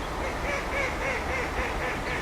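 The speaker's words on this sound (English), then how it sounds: "Ducks sound like they're laughing." Ducks quack repeatedly in a steady run of calls over constant outdoor background noise at the Wellington Basins on a winter walk.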